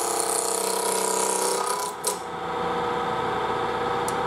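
A spindle gouge cuts spinning wood on a lathe, riding across the tool rest with a steady, close, rasping whir that dips briefly partway through, with no talking.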